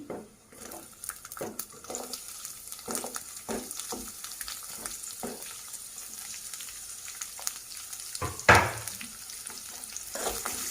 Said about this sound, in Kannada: ಇದು ಅಷ್ಟೇ ಆನಿಯನ್ ಬ್ರೌನ್ ಕಲರ್ ಬರಬೇಕು ಅಲ್ಲಿ ತನಕ ಫ್ರೈ ಮಾಡ್ಕೊಳ್ಳಿ